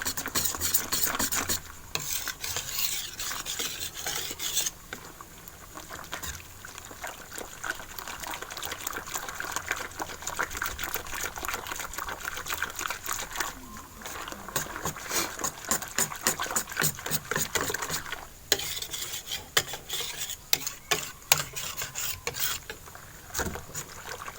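Glutinous rice flour and tapioca batter stirred in a bowl for Thai dok jok snacks: a long run of wet, sloshing, clicking strokes in a fast, irregular rhythm, close and moderately loud, with occasional speech.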